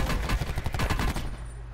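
Rapid automatic gunfire from a video game, a dense burst of loud close shots firing in quick succession before cutting off into a steady hum.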